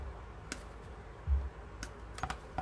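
Moss wreath stems snipped, a few faint, brief clicks spaced apart against a quiet room.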